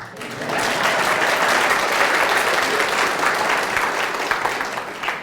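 Audience applause filling a lesson hall, a dense sustained clapping that swells in quickly and holds for several seconds at close range.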